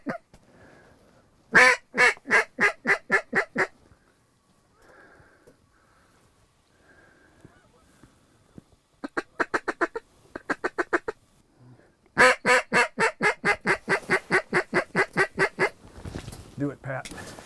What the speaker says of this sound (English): But just saw our first bunch of ducks, acted a little goofy.